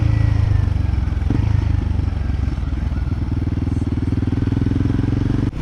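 Royal Enfield Himalayan 450 motorcycle cruising on a ride to BR Hills, a steady low engine drone with a pulsing beat that holds near and loud throughout, carrying a faint rattling clatter.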